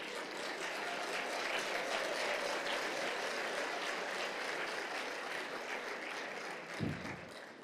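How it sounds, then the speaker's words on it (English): Steady crowd applause at a Rwanda Bar Association 25th anniversary celebration, continuous and even for most of its length, quieter and slightly distant, with a brief thump near the end. "the round of applause speaks by itself"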